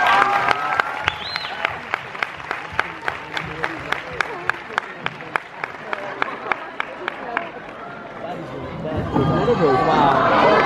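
An audience claps in a run of sharp, regular claps that builds toward the end into a louder wash of applause and cheering crowd noise.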